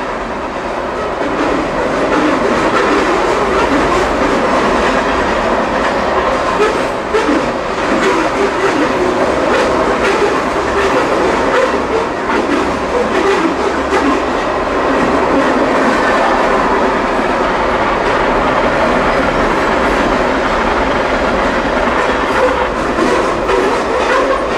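A CSX freight train rolls past close by, its cars bouncing, with loud continuous rumble and rhythmic clickety-clack of wheels over rail joints throughout, no talk.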